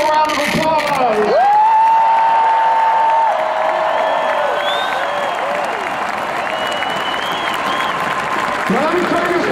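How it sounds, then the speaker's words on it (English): A large stadium crowd at a Penn State versus Northwestern football ceremony honoring Coach Paterno applauds and cheers, with whoops rising over sustained clapping while a public-address tone and echoing voices drift through. "Please give them all a round of applause."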